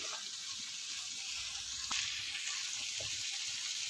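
Chicken pieces for shawarma fry in a pan with a steady, bright sizzle throughout, punctuated by a couple of soft clicks from turning the meat; no voices.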